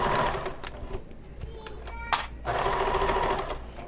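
Sewing machine stitching the side of a convertible bag, bursts of rapid mechanical whirring with a short pause and a sharp click midway before stitching resumes.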